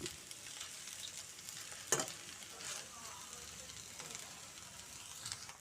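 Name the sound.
okra pieces frying in a little oil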